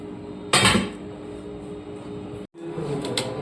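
Fried potatoes tumble into a pressure cooker pot, a short clattering clunk of food and metal followed by quieter kitchen handling and a faint knock near the end.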